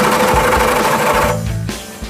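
A loud, rapid mechanical rattling from a power tool running close up on a Wagoneer's engine, then slowing and winding down near the end.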